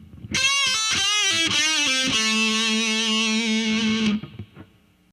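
A heavy metal electric guitar lick played up to speed, quick picked notes rising to a long sustained note with vibrato, distorted and loud, ringing alone before a clean stop.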